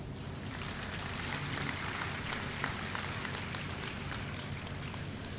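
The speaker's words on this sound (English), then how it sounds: "Let us all honor them by giving them a warm round of applause" Sustained applause from a graduation ceremony audience, a steady dense wash of many hands clapping at even loudness throughout with no voices standing out.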